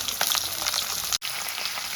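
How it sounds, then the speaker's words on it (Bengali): A katla fish head rubbed with salt and turmeric fries in hot oil, with a steady close sizzle and crackle that cuts out for a split second, then goes on. "আমি মাছের মাথাটা নুন আর হলুদ মেখে তেলে দিয়ে দিয়েছি।"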